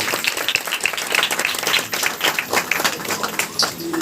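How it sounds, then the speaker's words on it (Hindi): A church service audience claps hard in unison, a loud, close, rhythmic burst of applause lasting several seconds with some crowd noise mixed in. "आप जोर से ताली बजाएं परमेश्वर के नाम में।"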